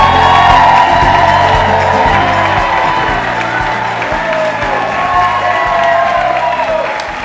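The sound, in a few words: audience crowd cheering and applauding in full house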